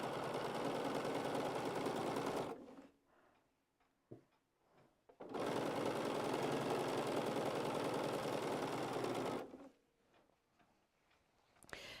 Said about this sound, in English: And now we're just going to sew down side 2.